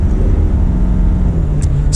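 A 2020 Ford F-350 Limited Powerstroke diesel pickup accelerating, a loud, steady low engine rumble heard from inside the cab, with a slowly rising drone and no talk.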